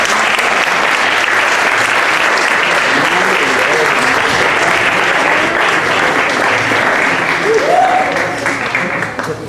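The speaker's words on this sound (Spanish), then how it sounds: "un aplauso" Sustained, loud audience applause at an awards ceremony with baroque music, a thick continuous roll of clapping with a brief voice or cheer rising briefly near the end before it tapers.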